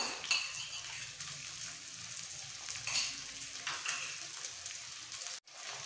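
Grated ginger and garlic sizzling in a hot pan for street-style pav bhaji, a steady bright frying hiss with occasional utensil scrapes and a brief clink near the end.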